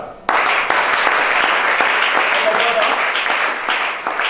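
A congregation at a church deliverance service bursts into loud, sustained applause that starts abruptly and holds as a dense wash of clapping, with voices calling out underneath.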